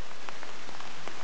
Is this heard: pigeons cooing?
no